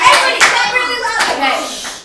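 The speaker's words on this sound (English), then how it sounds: "Everybody clap really loud!" Children clap loudly together in a short, dense burst of overlapping handclaps right after a cup-stacking game, with a voice faintly mixed in.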